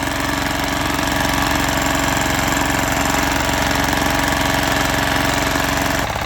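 A Zubr NT135E walk-behind tractor with a rotary harrow runs steadily in a garden, its engine droning loud and close with a continuous rattling throb that stops abruptly at the end.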